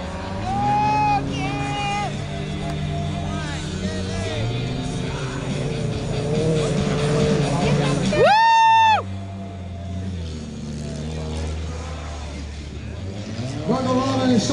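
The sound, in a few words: old cars racing in an obstacle car race, crowd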